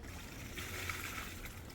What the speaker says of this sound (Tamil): இது யூஸ் பண்ணும்போது நம்ம கொஞ்சம் தண்ணி ஊற்றிட்டு